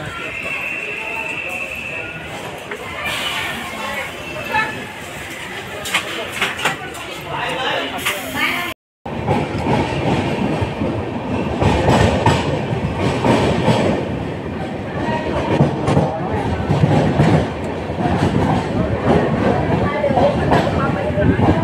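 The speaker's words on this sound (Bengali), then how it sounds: "আমাদের ট্রেন ছেড়ে দিল" A passenger train on the Secunderabad to Tirupati route pulls out after a one-minute halt and runs along the rails: a loud, continuous rumble with rhythmic rattling and clatter from the carriages. Voices can be heard at times over it, and the sound breaks off briefly partway through.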